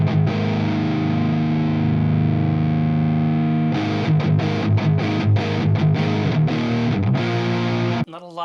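Electric guitar through an Azor distortion mini pedal: a long sustained distorted chord rings out, then a run of choppy, rhythmic distorted strums before cutting off.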